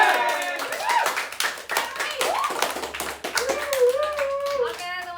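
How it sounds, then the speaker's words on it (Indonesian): A group bursts into hand clapping at the close of a casual live chat among interns, a steady crackle of many hands running through the whole stretch, with voices and cheering mixed in. "Habis itu tepuk tangan ya semua ya"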